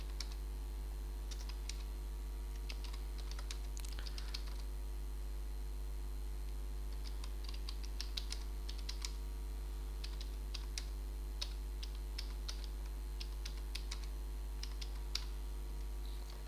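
Intermittent bursts of key clicks from a computer keyboard as a complaint is typed, close and fairly quiet over a steady electrical hum, with pauses between flurries of keystrokes.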